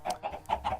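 Chickens clucking on a video game farm that also holds cows and pigs: a quick run of five short clucks, close and fairly clear, with no talking over them.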